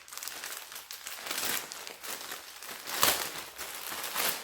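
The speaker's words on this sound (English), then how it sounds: "I apologize for the crinkling sound" Crinkly plastic packaging around a mystery yarn bag is handled and opened up close, giving a continuous dense rustle with sharper crackling bursts and no talking.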